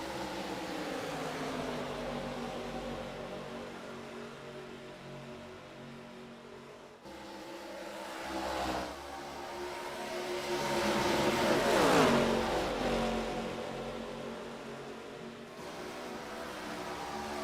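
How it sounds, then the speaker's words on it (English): ARCA Series race cars pulling off pit road onto the racetrack, their engines droning and revving steadily with rising and falling pitch as they pass at moderate distance, swelling louder midway, with no talk. "See Hunter Geyer and Anthony Smith make their way out onto the racetrack off of pit road."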